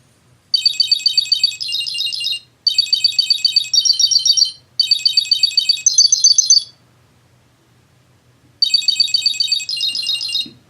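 Ringtone from a Cube Pro item tracker: loud, high electronic chirping trills in three bursts of about two seconds each, a pause, then a fourth burst, with no talking.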